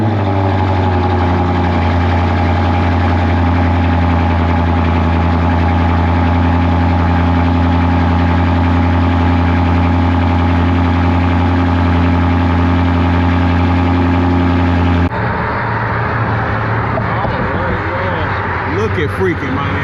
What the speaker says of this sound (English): I'll give y'all boys a cold start.